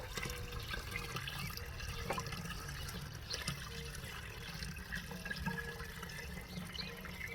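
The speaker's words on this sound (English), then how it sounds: "We're going to shake it." A container of homemade liquid fertilizer made with ammonium sulfate, not yet fully dissolved, being shaken by hand, giving a steady, continuous liquid sloshing and churning close by with no talking.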